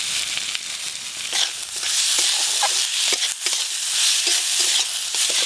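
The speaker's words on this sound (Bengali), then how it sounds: "আর উপর দিয়ে এবার টমেটো কুচি দিয়ে দেবো" Chopped tomato with spices frying in a pan and being stirred, a steady loud sizzle with scraping stirs over it, close and continuous, no voices.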